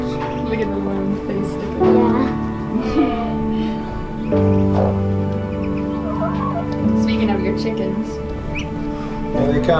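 Chickens cluck and chirp in a busy, continuous chorus close by, with people talking over the birds throughout.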